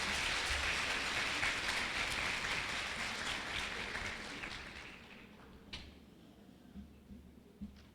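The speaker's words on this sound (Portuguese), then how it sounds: "Peço a todos que saúdem a mesa com uma calorosa salva de palmas." A congregation gives a warm round of applause to the panel at the opening of a church congress, dense clapping that holds for about five seconds, then fades out, leaving a few scattered knocks.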